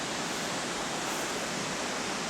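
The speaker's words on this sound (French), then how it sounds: "la fameuse cascade." A waterfall in the Chartreuse mountains gives a steady, dense, unbroken rush of water with no talk over it.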